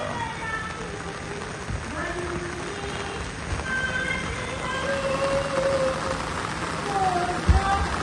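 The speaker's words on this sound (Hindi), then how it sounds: "बारिश इतनी ज़्यादा हो गई है" Heavy rain pours steadily outdoors on Independence Day at the Supreme Court of India, a dense continuous hiss filling the whole stretch, with scattered voices talking faintly underneath.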